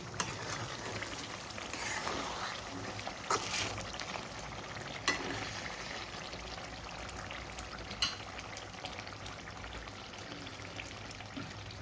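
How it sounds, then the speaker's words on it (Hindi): Prawn masala sizzles steadily in a pan, a constant close frying hiss with occasional soft clicks and spoon scrapes, fairly quiet throughout. "मसाला अच्छे से भुन गया है हमारा और झींगे भी अच्छे से पक गए हैं।"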